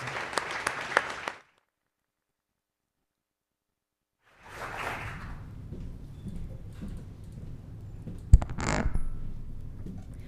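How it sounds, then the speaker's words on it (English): Faint applause from a press conference audience: a short burst of clapping, then a stretch of silence, then softer scattered clapping that resumes with some room noise. "please an applause, and please come on stage to reveal some details"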